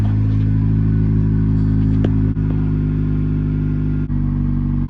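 A car engine idles loudly just after a cold start, a deep, steady droning rumble close up with a few faint clicks and brief dips across the clip.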